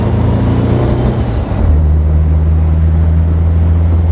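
A 1957 Porsche 356 Speedster with optional front disc brakes, its engine droning steadily and loud from close by as it pulls away on a drive, the low hum settling into a constant note after a brief shift.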